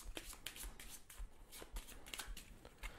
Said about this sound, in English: Give them a quick shuffle, deal 2 in.